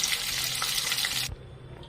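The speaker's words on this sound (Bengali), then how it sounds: "একটা একটা করে পটল এর মধ্যে দিয়ে ভালো করে ফ্রাই করে নেব" Pointed gourd (potol) frying in hot oil, a dense steady sizzle that cuts off abruptly after just over a second, leaving a faint low hiss.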